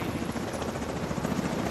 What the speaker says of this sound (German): Auch ein Heli. Kommt der Heli.